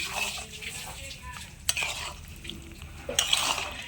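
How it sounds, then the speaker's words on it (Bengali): Eggplant pickle stirred in a pan after fenugreek powder goes in, a spoon scraping and clinking against the metal in uneven strokes over a soft sizzle, close and with no talk. "এবার ভালো করে মিশিয়ে নিচ্ছি"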